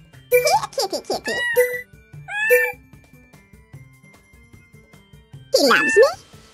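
Cartoonish cat meows from the Super Granny 3 video game: three short bursts of meowing close together at the start, then a longer meow near the end, with game music and effects underneath.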